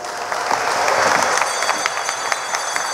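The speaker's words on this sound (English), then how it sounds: "Round of applause for Ms. Jolene John." Applause from a crowd at a Monday night political forum of the United National Congress in Debe, a steady dense patter of clapping lasting about three seconds, close and fairly loud.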